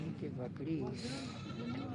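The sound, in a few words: goats bleating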